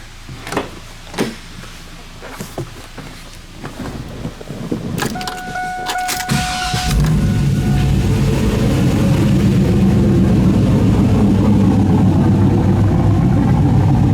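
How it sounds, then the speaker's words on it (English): A few clicks and clanks, then a Camaro engine with a lumpy cam cranks and fires into a loud, rough, uneven idle that rumbles steadily up close on a dyno. "I can fire it up here and we can listen to it"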